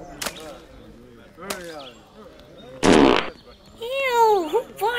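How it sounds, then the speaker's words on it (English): A loud, sputtering cartoon fart sound effect bursts out in the Roblox game Fashion Famous Frenzy, coming between bursts of excited, high-pitched children's voices and other whooshing game effects. "Who farted?"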